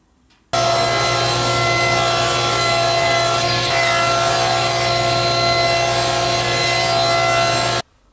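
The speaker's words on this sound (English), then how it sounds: "I'm going to rip some 3-inch wide strips of 1/2-inch thick walnut." A saw rips 1/2-inch thick walnut into 3-inch wide strips in one continuous loud cut of about seven seconds, a steady harsh whine and rasp that starts and stops abruptly.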